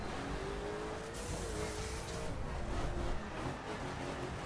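Ferrari 458 supercar engine on a circuit in The Crew, a steady high-revving drone with rising and falling tonal lines as it shifts and accelerates, continuous and somewhat distant, no voices.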